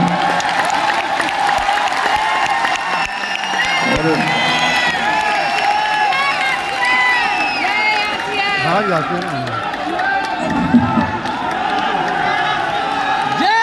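Loud audience applause and cheering fill the clip, steady clapping with whoops, and voices shouting over the crowd.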